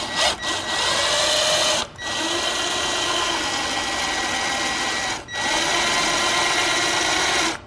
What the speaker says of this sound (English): Now we have to drill a hole into the firewall right here to run the cord